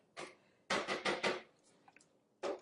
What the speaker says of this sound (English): We're going to stop and just scrape down the bowl.